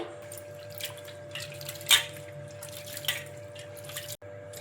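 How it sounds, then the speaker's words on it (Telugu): Flattened rice (poha) being rinsed with water in a mixing bowl: quiet sloshing and light dripping, with a few soft splashes and a brief clink, close and faint. "వీటిని ఒక 2 సార్లు శుభ్రంగా వాష్ చేసుకోవాలి"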